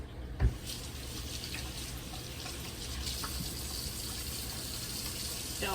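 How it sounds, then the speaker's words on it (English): Hands being washed under a running kitchen tap, a steady close rush of water splashing into the sink after a brief knock at the start, with no talking. "just washing my freaking hands"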